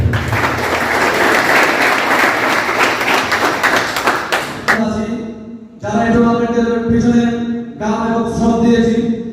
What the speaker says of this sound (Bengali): আজকে এরকম একটা সফল হয়ে সবার জন্য একটা হাততালি হবে